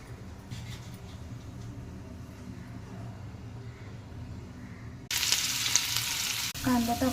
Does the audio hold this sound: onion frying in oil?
yes